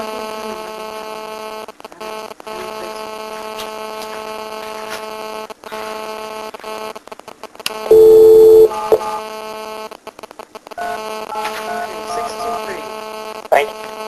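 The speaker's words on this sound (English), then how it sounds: "We'll call him right now on this phone." A telephone call being placed on a desk phone in an office, with steady tones and a loud sustained dial tone, under a constant mains hum.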